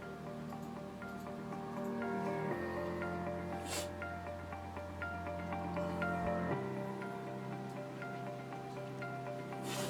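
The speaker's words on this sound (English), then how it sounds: "Did you hear that? That's the sound of the new JBL Go3." A JBL Go3 Bluetooth speaker plays music, picked up faintly from across a room as a steady, thin tonal bed with a few soft clicks and shifts, no one speaking.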